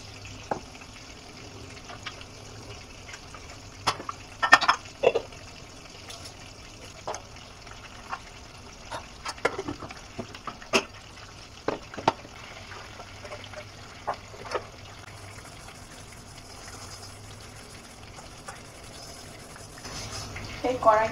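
Rice is being rinsed in water in a home kitchen, with sporadic close trickles, splashes and swishes over a steady low background hum.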